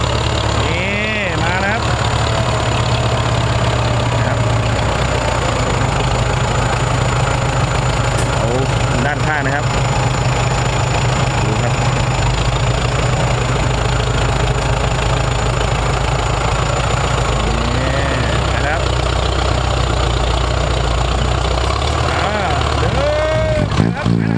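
A tractor's diesel engine idles loudly and continuously nearby, with a steady low chugging and intermittent voices talking over it.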